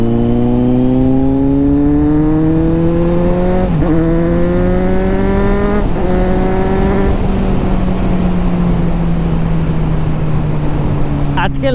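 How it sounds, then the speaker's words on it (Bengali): A Kawasaki Z900 motorcycle engine revs hard and loud and close, climbing in pitch, dropping back, then rising again, with sharp crackles near the end. "এই যে চালাচ্ছি, এই যে ব্যাক ফায়ারগুলো মারছে, ক্র্যাকেটসগুলো মারছে"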